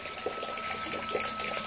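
Water poured steadily onto a rain sensor on a patio sunroof, a continuous close hissing splash with small irregular spatters and no voices.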